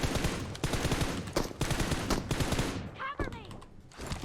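Gunfire in the video game PUBG: continuous loud bursts of automatic shots fired in rapid succession, filling most of the clip, with a voice talking over part of it.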